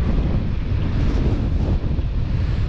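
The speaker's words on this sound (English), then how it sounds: "That wind is picking up" Wind blows by a mountain river as a front moves in, a loud steady low rumble buffeting the microphone without a break.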